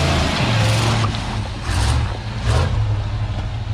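A lifted Chevrolet Tahoe's engine revs hard on steep off-road terrain, a steady loud rumble that swells in a few throttle surges.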